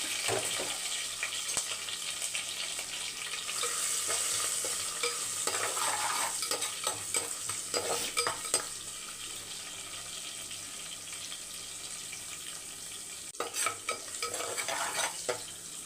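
Garlic and plenty of curry leaves sauté in a pan for a Kerala-style fish curry, giving a steady sizzle broken by stirring and scraping, with some running tap water mixed in. No one speaks.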